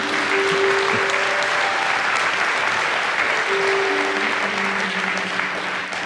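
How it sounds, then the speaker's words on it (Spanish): A church congregation applauds loudly and steadily for about six seconds, a dense sustained clapping with a faint sung or held tone underneath, and no speech. "Un aplauso al Señor."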